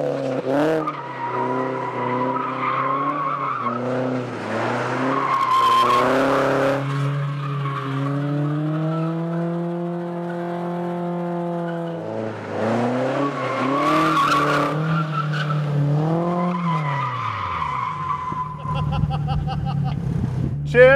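A car is held sideways in a drift exercise on a training course, its engine revving and wavering in long loud sweeps with tyre noise, dropping and climbing again before a final burst.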